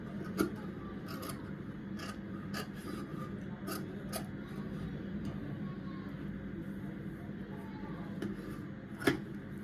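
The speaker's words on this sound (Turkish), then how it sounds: "Kol oyuntumu da kesiyorum." Scissors cut the armhole in fabric for a square-neck dress, giving soft, repeated snipping and rasping strokes close by, with quiet speech at times.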